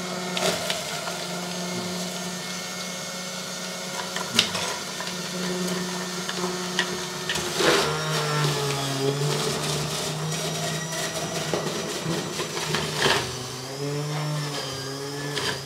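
A kitchen juicer mixer grinding mint and coriander runs with a steady motor whine and shifting pitch, broken by a few sharp clunks, with no talking.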